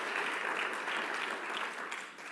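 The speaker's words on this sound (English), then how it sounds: "Let's give them a round of applause." A conference audience gives dense, sustained applause, loud and continuous for a couple of seconds before tapering slightly at the end.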